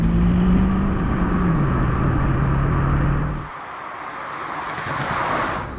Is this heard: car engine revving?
yes